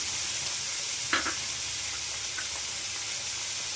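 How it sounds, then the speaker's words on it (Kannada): Carrot, potato and capsicum fry in a pan for homemade fried rice, giving a steady soft sizzle with a brief stirring clatter near the start. "ಕ್ಯಾಪ್ಸಿಕಮ್ ಇಷ್ಟನ್ನು ಹಾಕಿ ಫ್ರೈ ಮಾಡ್ಕೊಳ್ಳೋಣ"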